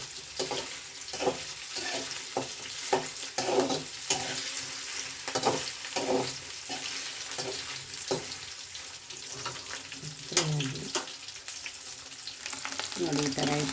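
Whole spices, cinnamon, cloves, bay leaf and cardamom, sizzle steadily in hot oil in a pan for a coconut milk paneer gravy, with a continuous crackling hiss and repeated scraping stirs throughout.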